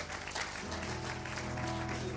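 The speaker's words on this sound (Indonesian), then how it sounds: "Berikan tepuk tangan buat Tuhan" Church congregation clapping at a worship service, a steady dense wash of applause with music tones sustained underneath throughout.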